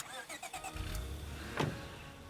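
A car engine in the video game State of Decay 2 turns over and catches with a short burst of revving, rising quickly, while faint chatter sounds earlier in the moment.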